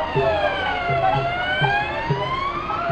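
An ambulance siren wails, sweeping up and down continuously, loud and close, during a street demonstration in Chaumont, France, with a low rhythmic rumble of traffic beneath it.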